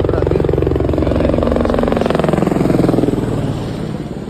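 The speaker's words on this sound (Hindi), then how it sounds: "सामने से जो बालटाल से हेलीकॉप्टर आती" A helicopter flying in from Baltal along the mountain route of the Amarnath Yatra gives a loud, close, rhythmic rotor chop that holds steady and eases slightly toward the end.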